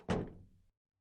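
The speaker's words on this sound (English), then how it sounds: "The door closed, and I could hear her footsteps trail off into the distance." A door shuts in the video game Steins;Gate 0 with a single dull thunk that fades quickly into silence, close and alone with no talk.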